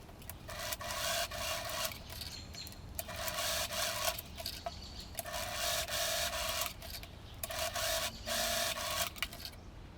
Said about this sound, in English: And I sew in place.